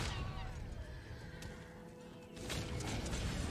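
A horse neighs in Red Dead Redemption free roam, a whinny riding over a steady wash of game ambience, with hoof clatter and a louder surge of noise in the final second.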